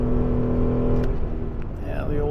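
An old vehicle engine downshifts and drones steadily on a hilly road near Lake Superior in Ontario, a low continuous rumble with a slight change in pitch partway through, with faint background sound.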